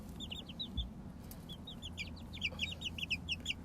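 Four-week-old chicks out in an outdoor coop give a run of high, quick peeping clucks, repeated in uneven bursts over a quiet, faintly hissing background.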